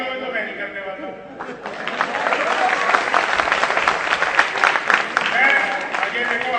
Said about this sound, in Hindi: आप लोग एक बार तालियां बजाकर मुझे आदेश दीजिए कि मैं कवि सम्मेलन शुरू करूं